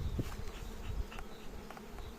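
A low, steady buzz of bees from an opened beehive hums throughout, with a few louder bumps and knocks near the start.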